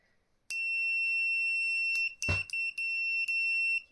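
Continuity test beeper on a Kaiweets KC602 clamp meter, sounding a sustained high electronic tone that breaks into several short on-off beeps as the probes touch, with a brief clatter in between.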